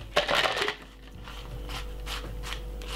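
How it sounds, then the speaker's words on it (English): Ice cubes dropped into a cup of ginger pieces at a juice bar, a quick burst of clattering and crunching followed by fainter settling clinks. "Fill it up with some ice."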